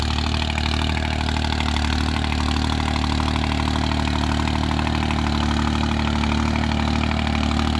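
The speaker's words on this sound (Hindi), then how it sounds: "ट्राई ले रहे हैं ट्रैक्टर की" A New Holland 3630 Super Plus tractor engine runs at a constant steady idle, loud and close, with an even mechanical drone throughout and no talking.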